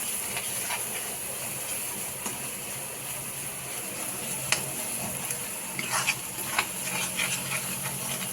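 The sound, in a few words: stirring pav bhaji vegetables with masalas in hot pan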